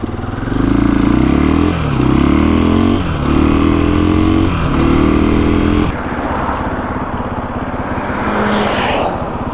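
A 2021 KTM 500 EXC dirt bike engine revs hard in three loud, rising bursts close by, then drops to a rougher, lower idling rumble with wind noise toward the end.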